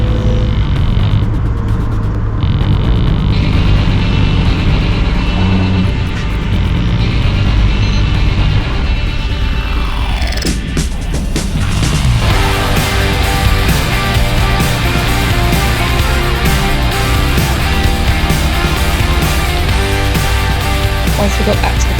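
A race car running in limp mode at Brands Hatch, its engine droning loud and steady from inside the car for the whole stretch, with a shift in tone partway through.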